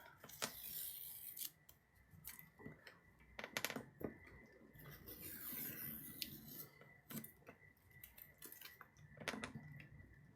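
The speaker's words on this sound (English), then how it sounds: "Let's take the tape off" Masking tape being peeled off watercolor paper after painting a white flower, a series of short dry rips and rasps spread across the stretch with quiet pauses between pulls, close and fairly soft.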